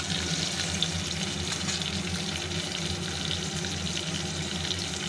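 Hot oil sizzling steadily in a pan as turmeric powder is stirred in before frying hilsa fish, a close, continuous frying hiss with no talk.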